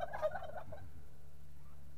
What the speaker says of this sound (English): I managed to find two female turkeys.